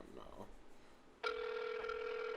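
A telephone ringtone starts partway through on speakerphone, a steady electronic ring that follows people chatting in a room.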